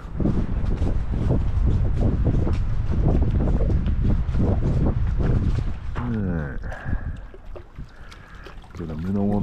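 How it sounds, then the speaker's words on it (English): Strong wind roaring by the water at dusk while fishing, a loud steady rush buffeting the microphone throughout, with someone talking over it in the later part. "Whoa, it sounds like it's blowing a hurricane down here."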